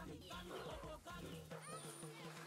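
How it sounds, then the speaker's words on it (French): Silkie hens in Benin cluck close by in short, repeated bursts, a busy chorus of soft clucks and calls from several birds. "ce sont des poules qu'on appelle des poules de soie"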